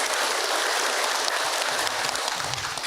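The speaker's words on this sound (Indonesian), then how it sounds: "Tepuk tangan Ibu untuk Hilma." A studio audience of women at an Indonesian religious talk show applauds, producing a loud, dense, continuous hiss of clapping that holds steady for the whole stretch, with faint voices murmuring underneath toward the end.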